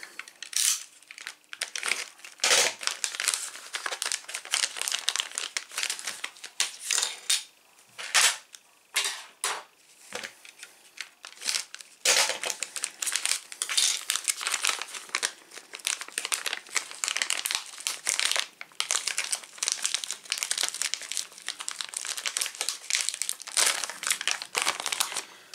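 Plastic packaging crackles and crinkles steadily as DeLorean model kit parts are unwrapped, with close, busy rustling and occasional sharper snaps throughout.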